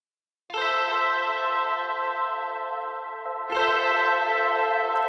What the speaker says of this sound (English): Then we have a spring reverb just kind of adding that springy sound.